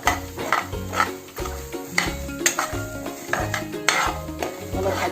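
Dal dry-roasting in a pan with no oil while being stirred, scraping and clattering in rhythmic bursts close up, with faint sizzling underneath and music playing throughout.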